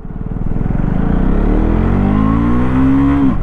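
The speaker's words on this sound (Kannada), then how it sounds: "ಕ್ವಿಕ್ ಶಿಫ್ಟರ್ನ ಇಟ್ಕೊಂಡು ಗೇರ್ನ ಚೇಂಜ್ ಮಾಡೋಣ." A 2025 KTM Duke 250 motorcycle with a quick shifter revs loudly up through one gear, its engine note climbing steadily before cutting sharply at the shift. The sound is close and strong, with no voices.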